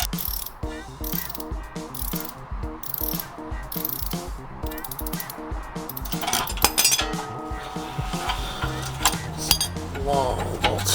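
Long bolts on a clutch torque arm being ratcheted out by hand, rapid rhythmic ratchet clicks repeating close by, followed by metallic clinks and handling of loose parts.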